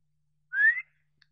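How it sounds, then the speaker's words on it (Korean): A single short whistle rises steadily in pitch and stops cleanly, alone in silence. "휘파람 소리."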